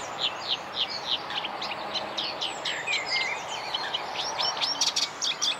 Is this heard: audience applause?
no